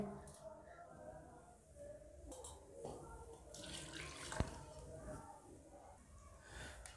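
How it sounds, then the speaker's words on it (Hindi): Water pours into a cooking pot of paya (mutton trotters) as it is prepared, a steady splashing and trickling stream close by, with soft kitchen clatter around it and no voices. "अब इसमें दो कप पानी शामिल कर लेंगे"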